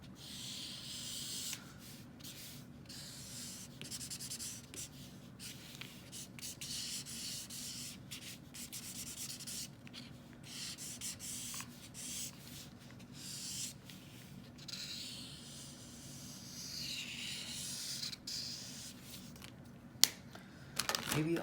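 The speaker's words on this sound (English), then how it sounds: "I'm gonna take the same color I used to color snow over there to just draw some shadows." A colour marker scratches across card as shadows are drawn on a handmade Christmas pop-up card, giving quiet, steady rubbing strokes with brief pauses and no talking.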